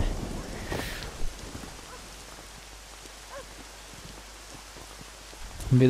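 Steady rain in Red Dead Redemption hisses evenly throughout, a broad wash of patter with scattered drop hits and a louder burst near the end.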